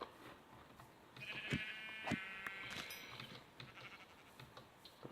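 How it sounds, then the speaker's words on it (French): Blocky Minecraft sheep bleat several times in a game world, short wavering cries over a faint background, fairly close, with no one talking. "Ah, un genre des moutons, c'est cool."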